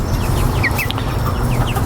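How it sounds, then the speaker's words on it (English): Chickens cluck and chatter in a coop on a permaculture farmstead, several short, close calls scattered over a constant rustling, noisy background. "So these are the chickens."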